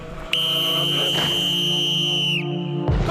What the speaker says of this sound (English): The morning whistle goes at 4:45.